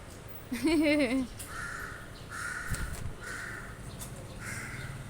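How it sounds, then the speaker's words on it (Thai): A crow caws a few times at close range, the calls standing out briefly before quieter scattered bird calls and faint outdoor background sounds. "อีการ้องอีการ้อง"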